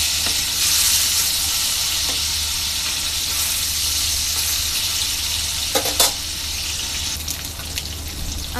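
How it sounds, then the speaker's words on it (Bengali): Poa fish fry in oil in a pan, a loud, continuous close sizzle with occasional sharper crackles and a brief clatter near the end. "মাছগুলো আগে ভালো করে ভেজে নিব।"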